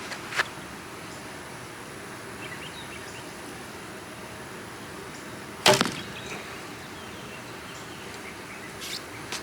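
An arrow shot from a lightweight 40-pound Supercurve bow with fast arrows, a single sharp snap and thwack standing out mid-clip over steady outdoor hiss with a few faint clicks.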